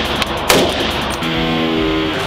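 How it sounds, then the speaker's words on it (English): A suppressed Bushmaster ACR rifle fires at an indoor range, a loud close report followed by dense reverberant rumble and continuous ventilation-like noise. "Suppressed Bushmaster ACR."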